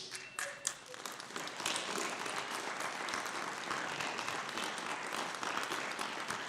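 Sustained applause fills the room at a school committee meeting, a steady wash of many hands clapping at moderate distance that carries on without a break for several seconds.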